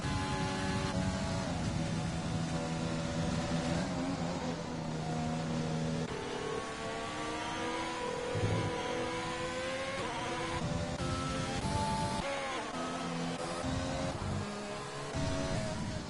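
Race cars in a sim racing game on an Australian circuit, engines droning continuously and rising and falling in pitch as they accelerate and shift, close and loud without any talk.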